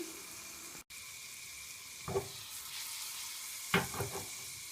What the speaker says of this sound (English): Quickly add the garlic and saute for some time.